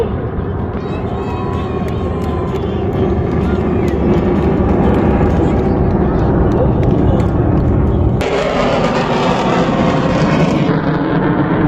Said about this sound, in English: The aircraft has now turned left and mission will be positioning for the loop tunnel yaw.